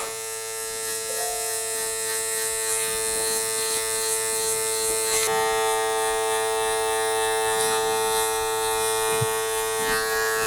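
Electric hair clippers fitted with a number 1 guard, used on Afro hair for a low skin fade, give a steady close-up electric hum with bright harmonics that continues without a break throughout.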